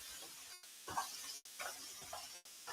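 Burgers frying in a pan, fat spitting and sizzling in a steady crackling hiss with sharper pops, broken by brief gaps; moderately quiet and close.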